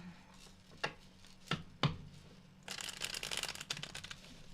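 Tarot cards being shuffled by hand: a few sharp separate snaps, then a dense riffling burst of cards fluttering together, close and fairly quiet with no talk.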